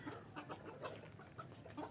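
A white bantam hen clucks softly in a series of short, quiet calls, close by with no one talking.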